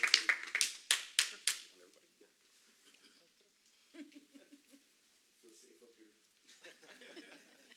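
A handful of sharp, separate claps from a small group at a community meeting, quickly dying out, followed by quiet murmuring and light chuckles.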